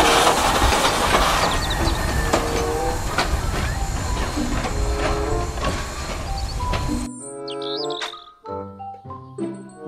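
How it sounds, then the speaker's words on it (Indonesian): A Thomas toy train runs with a steady mechanical rattle and clickety-clack for about seven seconds, then cuts off abruptly, followed by short tonal toy sounds or music fragments. "Kereta Thomas."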